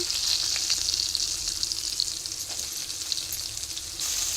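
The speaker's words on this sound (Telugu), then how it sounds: "ఆనియన్ వేసుకొని ఈ విధంగా వేయించుకోవాలండి" Onions sizzle and crackle steadily in hot oil in a pan, a continuous close frying hiss with occasional stirring sounds and no talking.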